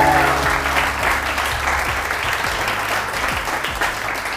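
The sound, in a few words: audience applause for guest on TV morning show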